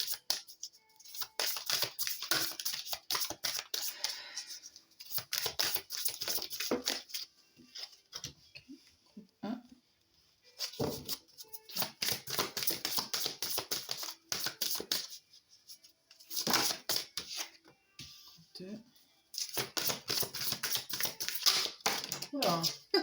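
Tarot cards are shuffled and drawn in bursts of quick papery riffling and flicking, stopping between bursts, close and fairly loud with no talking.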